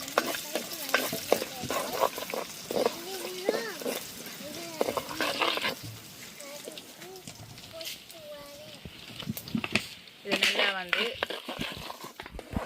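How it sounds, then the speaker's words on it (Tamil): Urad dal, chana dal, mustard seeds and fennel fry in hot oil for tomato rice, crackling and sizzling up close while someone talks over most of it, with stirring scrapes and a louder burst near the end. "எண்ணெயில் வந்து கொஞ்சம் சிவக்க மட்டும் வறுக்கணும் பொறிக்கணும்"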